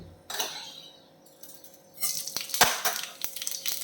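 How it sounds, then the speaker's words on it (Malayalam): A teaspoon of mustard seeds hitting hot oil in a pan, a brief sizzle at first, then a denser crackling, spitting patter of sharp pops close by, with no voices. "1 ടീസ്പൂൺ കടുക് ഇട്ട് കൊടുക്കാം"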